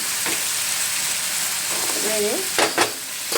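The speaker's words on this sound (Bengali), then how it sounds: "আমি সাদা সর্ষে লাল সর্ষেটা দিয়ে দিয়েছি, দিয়ে নাড়ছি" White and black mustard seeds fry in hot oil while being stirred, a continuous close sizzle with scraping strokes and a brief voice midway.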